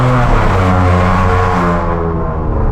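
VW Virtus 1.0 TSI fitted with a downpipe and straight-through exhaust with no muffler, a loud, close, deep droning roar whose pitch climbs steadily as the engine revs, without talk.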